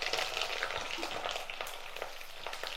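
Two small onions, cut up, fry in oil in a pan, giving a close, continuous crackling sizzle with scattered pops and light stirring scrapes.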